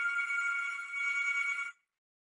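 A telephone rings in a room during a technical presentation, one steady electronic ring lasting under two seconds before cutting off, with no talk over it.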